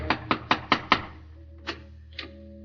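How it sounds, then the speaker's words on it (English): Knuckles rap on a front door in 1940s Berlin: five quick, evenly spaced knocks, then a pause and two more, single knocks, close and fairly crisp against a quiet background. "He knocks on the front door."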